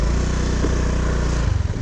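A Honda Dio 110 JF58 fuel-injected scooter engine drones steadily up close on a test ride, loud and continuous, with a brief wobble near the end.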